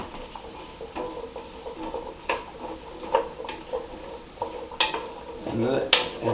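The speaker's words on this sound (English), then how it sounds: "Move it around that olive oil." A giant cooking spoon stirs olive oil in a pot, with irregular clinks, knocks and scraping against the pot, growing busier and louder toward the end.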